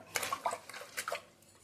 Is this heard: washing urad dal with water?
yes